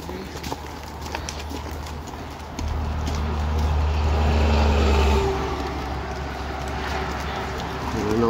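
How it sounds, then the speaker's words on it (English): Trucks blast past on a road beside a trail ride, where traffic moves at about 60 miles an hour. A loud, low roar swells and fades with wind noise over a constant background rumble. "Trucks go blasting by."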